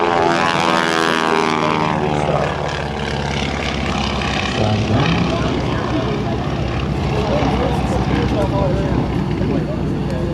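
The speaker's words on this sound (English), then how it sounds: "Sputter. There's the flaming restart." Aerobatic propeller plane at an air show, its engine roaring loud and steady overhead as it flies a super slow roll, with crowd noise and a loud announcer under the engine throughout; no clear cutout in the engine sound is evident.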